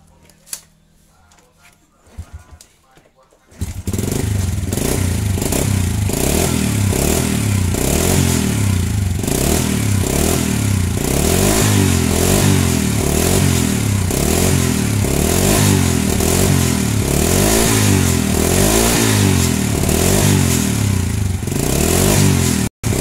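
After a few quiet seconds of faint clatter, a Honda Supra motorcycle engine starts and runs loudly, rising and falling through repeated revs for the rest of the recording.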